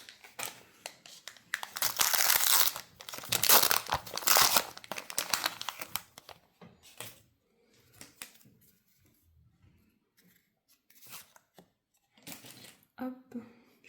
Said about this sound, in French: c'est toi qui vas continuer à ouvrir les cartes